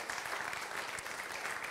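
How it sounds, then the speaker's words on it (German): A church congregation at the Leuchtfeuer-Gemeinde claps together in a brief burst of applause, a dense, even patter of many hands during the service. "lass uns Jesus mal einen Applaus geben"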